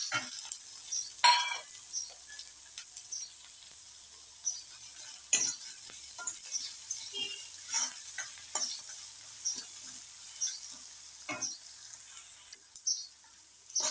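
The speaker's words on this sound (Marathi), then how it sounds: "आपण ह्याच्यामध्ये एक टोमॅटो कापलेला आहे तो टाकूया" Chopped tomato drops into frying chilli and garlic for a spinach and peanut amti, bringing a faint sizzle broken by scattered clinks and scrapes of a spoon against the pan, with no voices.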